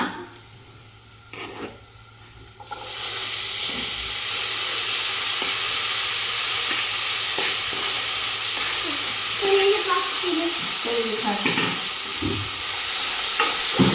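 Broccoli frying in a pan, a steady loud sizzle that starts abruptly after a quiet opening and holds continuously, with occasional stirring knocks against the pan.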